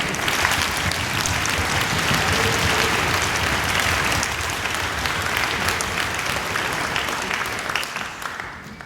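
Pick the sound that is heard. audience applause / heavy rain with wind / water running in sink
audience applause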